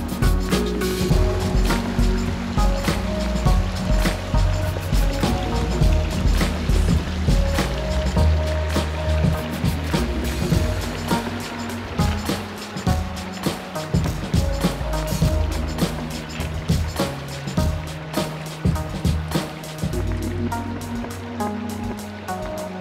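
Someone wades across a mountain stream on foot in the Indian Peaks Wilderness near Jasper Peak, with loud splashing and rushing water mixed with uneven footfalls over a continuous close flow.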